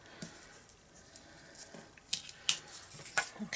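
Scissors trim the excess paper from a heat-embossed birthday card with quiet, close snips that come in a few irregular crisp cuts against near silence.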